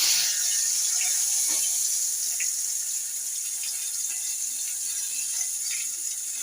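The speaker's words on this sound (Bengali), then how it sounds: "আমি শুকনো লঙ্কা ফোড়ন আর এই তেজপাতা ফোড়ন" Dried red chilies and bay leaves sizzle in hot mustard oil, a bright continuous hiss that is loud at first and settles slightly, with a few faint crackles and no speech.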